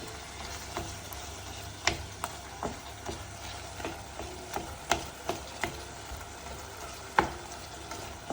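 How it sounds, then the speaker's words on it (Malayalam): Tomatoes frying in oil for veloori masala, a soft steady sizzle close by, dotted with irregular small pops and crackles. "തക്കാളി ഇങ്ങനെ എണ്ണയിൽ വെന്തുകൊണ്ടിരിക്കും."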